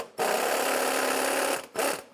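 Power tool whirring on a 15 mm sway bar link nut of a 2015-2020 Cadillac Escalade, one sustained buzzing run of about a second and a half followed by a short second burst, close and moderately loud.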